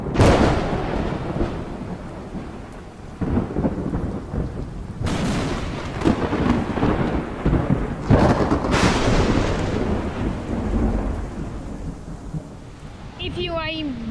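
Heavy rain pours over the ocean while loud thunder rumbles and cracks several times, ending with a brief whistling sweep.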